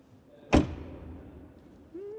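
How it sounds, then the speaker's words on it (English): A single solid thud of a 2025 Skoda Enyaq car door shutting, close and fairly loud, followed by quiet cabin ambience and a faint tone near the end. "Then door closing sound."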